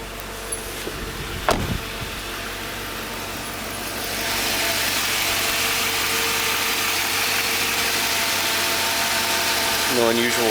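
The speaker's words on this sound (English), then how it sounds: "And I just started the car up." A car engine idles steadily with the hood open after a brief mechanical clunk, a low constant hum that grows slightly fuller midway and continues without revving.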